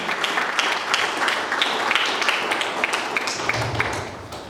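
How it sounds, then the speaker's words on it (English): An audience at a Toastmasters club's 100th meeting claps for an area director, a brisk, fairly close round of many hands at steady volume that thins slightly near the end. "Please give a huge round of applause for Area Director Rohan Parak"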